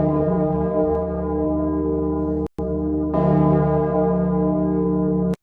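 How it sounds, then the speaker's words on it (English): A swinging 15-ton bell rings in a deep sustained tone rich in overtones, loud and continuous, with a brief cut and then a fresh louder strike. "Ever seen a 15-ton bell swing?"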